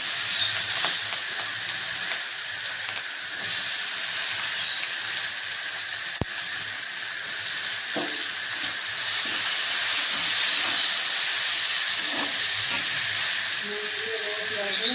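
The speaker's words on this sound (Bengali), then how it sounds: "কুচানো পেঁয়াজ দিয়ে দেবো" Chopped onion hits hot oil already fragrant with bay leaf, cinnamon and cloves, setting off a loud, steady sizzling hiss that runs unbroken throughout, with a few faint clicks and knocks from the pan underneath.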